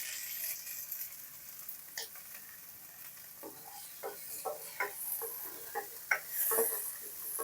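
Tomatoes go into a pot of sinigang na salmon belly and sizzle quietly nearby, with a run of small ticking pops and light utensil taps that grow busier toward the end.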